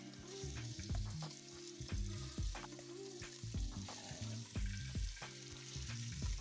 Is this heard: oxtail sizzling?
yes